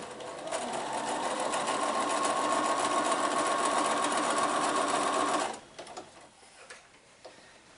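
Sewing machine stitching quilt block pieces corner to corner for a tree block, a steady close mechanical whir running for about five seconds before stopping abruptly, followed by light handling noises.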